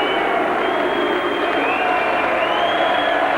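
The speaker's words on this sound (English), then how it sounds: "Why they're booing Lewis, heaven alone knows" A boxing arena crowd booing Lennox Lewis after his bout with Ossie Ocasio, a steady, dense roar of voices filling the hall with no break.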